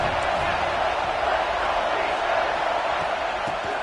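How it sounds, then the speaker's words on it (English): Steady roar of a large crowd at a championship football game on third down, a dense sustained wash of cheering and noise throughout with no distinct breaks. "Third down, and the crowd really getting into it."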